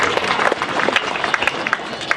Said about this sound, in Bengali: একবার জোরে করতালি সবাই মিলে।